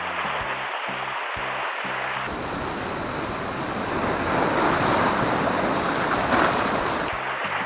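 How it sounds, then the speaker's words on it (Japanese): Ocean waves surge against the rocky shore at Jogashima, where people are fishing from the rocks. A broad wash of surf rises and holds for several seconds and sits close and fairly loud, with a faint hum before and after. "波来ちゃうかなあれ"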